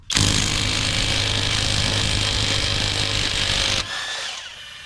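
Power tool whirring loudly and continuously while removing lug nuts from a G35's wheel during a coilover install in a garage, then cutting off near the end to a quieter background hum.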